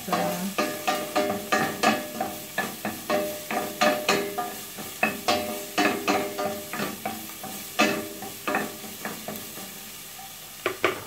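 Onion and garlic sizzle and fry in a pan for chilli con carne, loud and close, with a steady hiss broken by repeated rhythmic stirring scrapes of a utensil against the pan.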